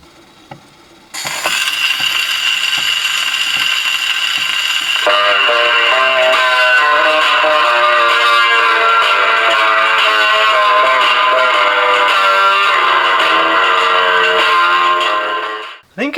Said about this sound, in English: You crank the mainspring up, this handle, then you just pop a record on